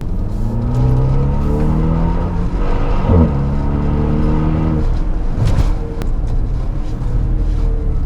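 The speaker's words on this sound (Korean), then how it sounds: "스포츠 모드에 들어서게 되면은 본격적으로 나 마세라티야 라는 소리를 하기 시작합니다" A Maserati Levante's 2.0-litre four-cylinder mild-hybrid engine revs loudly in sport mode, rising through several climbing engine notes with a brief dip between, close and alone without talk.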